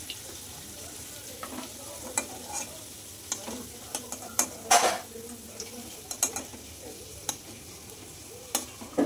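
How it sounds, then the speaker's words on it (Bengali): Potato pieces fry in a pan with a low continuous sizzle, while a spatula stirs and clinks against the metal in irregular scrapes and taps. "এবার আলুটা ভালো করে ভেজে নেব।"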